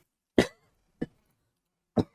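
A person coughs three times in short, separate bursts with gaps between them, close to the mic and with no talking.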